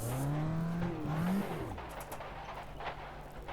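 A race car in Automobilista 2, stuck in the pits and bouncing, gives a rising engine whine that wavers and drops, followed by scraping, squealing tire noise and scattered knocks over a steady rumble.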